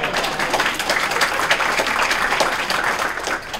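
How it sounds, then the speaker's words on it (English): Dense crowd applause at an awards ceremony, many hands clapping steadily and fairly loud throughout, with no pauses. "we should applaud for them"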